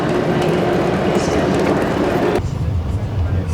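A train rumbles at La Spezia station in Italy, a loud, continuous rolling roar with rattling carriages that drops in level toward the end, with people talking over it.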